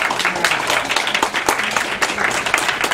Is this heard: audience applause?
yes